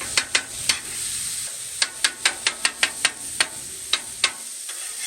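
Ground beef with onions and peppers browns in a pan, a continuous hiss of frying punctuated by a rapid series of sharp spatula scrapes and taps, close and loud, with no talking.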